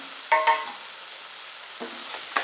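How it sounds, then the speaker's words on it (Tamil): Potatoes stirred into tomato masala frying in a pan, a few sharp spoon scrapes and clinks over a soft steady sizzle. "இது கூடவே வேக வச்சுட்டு உருளைக்கிழங்கு சேர்த்து நல்லா கலந்து விட்டுலாம்"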